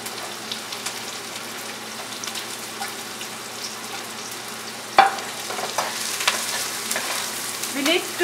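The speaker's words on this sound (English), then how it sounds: "I will put this chopped onion in this heated pan" Chopped onion hits a heated pan and sizzles steadily, a continuous hiss of frying that swells after a sharp clatter as the pieces drop in, with faint stirring scrapes.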